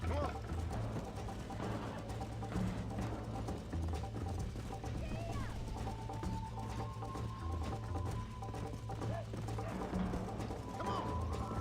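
Horse hooves clip-clop in the video game Red Dead Redemption on Nintendo Switch, a steady galloping rhythm mixed with game ambience, a low hum and occasional whinnies at moderate loudness.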